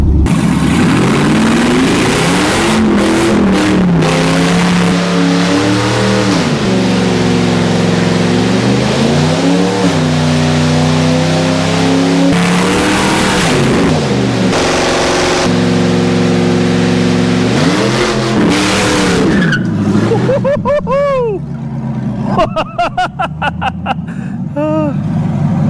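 LS-swapped Chevy Blazer with a 4L80E transmission and Ford 8.8 rear end, its V8 loud and close as it revs and accelerates through repeated rising and falling pulls, roaring throughout, with gear changes audible and the note thinning out near the end.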